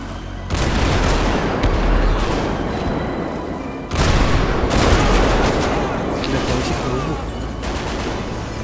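Heavy gunfire fills a GTA 5 zombie survival game: two long sustained bursts of rapid automatic shots, loud and dense, the second starting after a brief break, with faint voices in the background.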